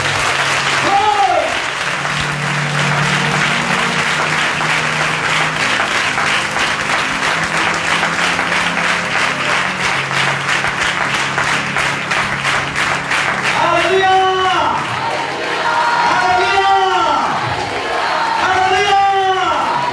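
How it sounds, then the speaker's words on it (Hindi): Loud applause from a church congregation during a Passover sermon, a thick roar of many hands clapping with whoops, then a voice sings or calls out in rising, wavering phrases over the fading clapping. "जितना दिल खुश है जोरदार तालियां बजाएं।"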